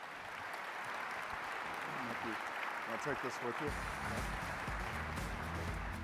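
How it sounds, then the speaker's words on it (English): A large crowd at a tech conference keynote applauds its panelists: a continuous wash of clapping across six seconds, with a few spoken words heard close over it. "Round of applause for our panelists."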